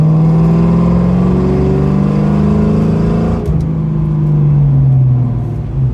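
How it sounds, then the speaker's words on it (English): Road traffic approaching from behind, a loud steady car engine drone that drops in pitch as vehicles close in and pass, with no talking. "I had traffic coming up behind me real quick"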